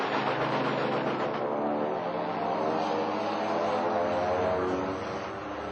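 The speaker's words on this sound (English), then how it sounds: "He got the sun behind him as he dived down at full throttle" A WWI fighter plane dives at full throttle, its propeller engine a steady, loud, continuous droning roar that holds throughout with no voices.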